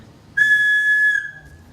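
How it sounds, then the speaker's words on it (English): A homemade whistle, air blown through a hole and out one end, gives a single clear, loud, steady high tone lasting nearly a second, close by and alone before trailing off. "I made two things, a whistle and a rattle."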